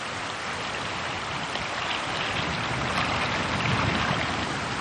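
A river in Korea's demilitarized zone flows steadily, a dense, even rush of water with no pauses or voices, holding at the same moderate loudness throughout.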